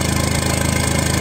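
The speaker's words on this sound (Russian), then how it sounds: "42-43 минуты работает наш бензогенератор." A gasoline generator running steadily after about forty-two minutes of operation, its exhaust routed through a pipe in a wall, giving a loud, close, even engine drone with a fast regular pulse and no speech.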